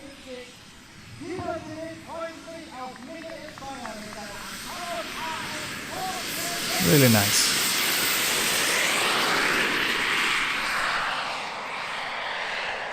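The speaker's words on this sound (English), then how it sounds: "It goes for the takeoff." A huge hybrid RC plane with turbine power plus four electric turbines, 5.8 m wingspan and 93.5 kg takeoff weight, taking off. Talking comes first, then a rising turbine whine swells into a loud, sustained roar.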